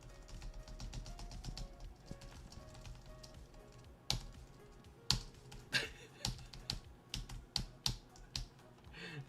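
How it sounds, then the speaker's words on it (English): Fast clacking keystrokes on a computer keyboard, close and crisp, with irregular bursts of typing and sharper individual key hits toward the end, no talking. "I hate this keyboard so much."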